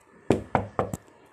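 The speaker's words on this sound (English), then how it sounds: "Let me knock." Four sharp knocks on a door, three evenly spaced and a quicker, lighter fourth, close and distinct against a quiet room.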